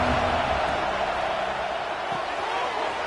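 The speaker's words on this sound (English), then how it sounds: "This crowd's ready to make its presence known." A dense, steady roar fills a college football stadium as the crowd cheers around a kickoff, loud and continuous with no pauses.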